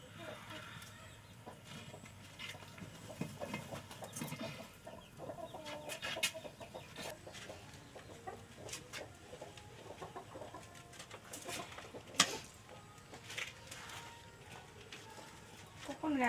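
Farmyard chickens, including a large brooding hen, cluck intermittently in a busy rural Vietnamese setting, mixed with people talking and household clatter throughout.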